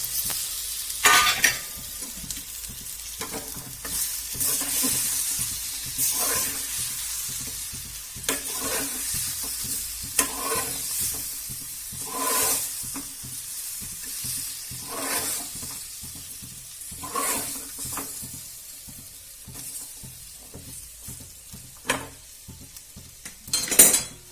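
Palak muthiya sizzle and fry in a pan while a utensil stirs and scrapes with repeated clinks against the metal, a steady close hiss running beneath the rhythmic stirring throughout.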